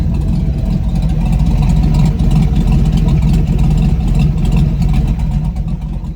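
An LS-swapped OBS Ford Bronco idles with no mufflers, a loud, deep, lumpy V8 rumble pulsing steadily up close, with no voices over it.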